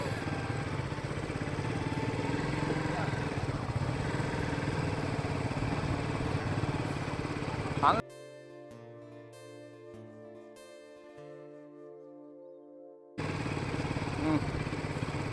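Motorcycle engines from a small backyard race of three bikes, a steady loud droning roar that cuts out midway for a few seconds of music before the engine noise returns.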